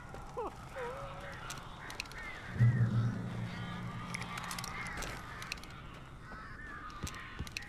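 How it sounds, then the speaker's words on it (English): Strange birds in the video game Alan Wake give faint honking, goose-like cries and squawks, scattered over a low rumble, with a few brief vocal sounds from a character. "These birds are weird."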